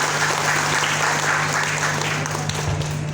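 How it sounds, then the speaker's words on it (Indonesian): An audience at an Indonesian educators' gathering applauds steadily, a dense, even wash of many hands clapping throughout at moderate volume. "tepuk tangan untuk beliau bertiga"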